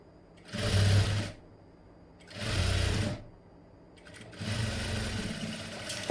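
A sewing machine stitches double thread piping in three separate runs, each a loud, close whirring burst followed by a short pause, with no talking.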